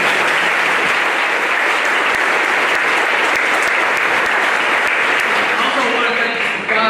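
Audience at a high school honors day applauding the students, a loud, sustained burst of dense clapping that stays steady for the whole stretch.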